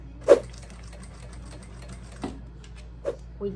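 A sewing machine stitches fabric held with double-sided tape for a double wine holder, a low steady motor hum broken by a few sharp clicks and taps, close and quiet.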